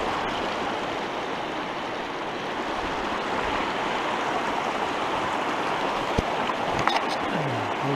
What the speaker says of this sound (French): Un magnifique petit torrent.